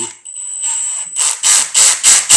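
A cordless drill whines at a high pitch, then its clutch slips in a rapid series of rhythmic ratcheting pulses, loud and close.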